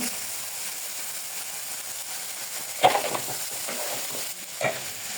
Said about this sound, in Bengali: কামের চালটা দিয়ে কামের চালটা দিয়ে ভালো করে ভেজে নিব